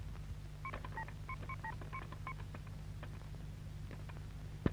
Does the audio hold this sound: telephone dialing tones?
yes